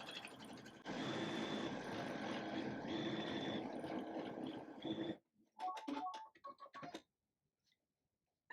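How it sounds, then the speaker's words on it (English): A Baby Lock embroidery machine stitches a heart design for a quilt block, its rapid steady mechanical whirring running loud for several seconds, then breaking into a few shorter bursts before stopping into silence. "Now the fun part, we get to watch it stitch."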